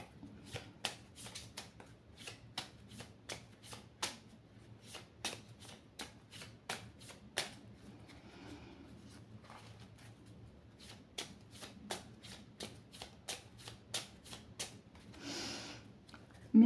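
Phoenix oracle cards are shuffled by hand in a quiet room, giving sharp, repeated riffling bursts at an irregular but steady pace, close and fairly soft, with no talk.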